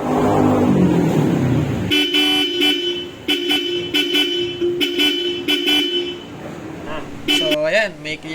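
A Bosch Europa horn fitted to an Isuzu Traviz honks in repeated short, loud toots with brief gaps, ending in a wavering blast; a car engine runs underneath.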